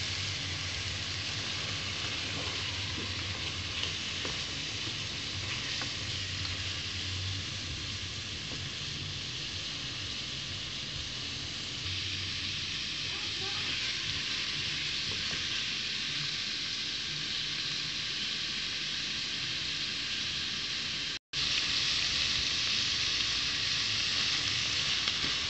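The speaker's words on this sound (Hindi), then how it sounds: "अब हम इसमें डालेंगे मिक्स वेजिटेबल। ये फ्रोजन है, इतनी ज़्यादा पकाने की जरूरत नहीं होती इसे।" Frozen mixed vegetables frying in a pan for spaghetti with vegetables and chicken, a steady close sizzle that holds evenly throughout with a brief dropout near the end.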